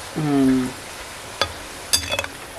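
Onion bhaji frying in hot oil on a wood-fired stove, a soft sizzle with scattered stirring scrapes and metallic clinks of a utensil against the pan, a brief tonal sound early on.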